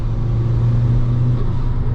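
A Honda Civic FN2 Type R with a 500 bhp engine accelerates hard from inside the cabin, a steady loud engine drone with strong low rumble holding through the full two seconds, no talk.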